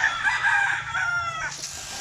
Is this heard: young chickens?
yes